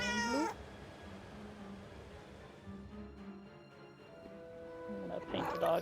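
A cat in the video game Forspoken meows a couple of soft times, near and fairly quiet over low game ambience, with a brief voice at the end.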